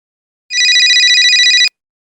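A cell phone rings once in a short, loud electronic trill lasting about a second, rapid and high-pitched, alone in otherwise silent surroundings.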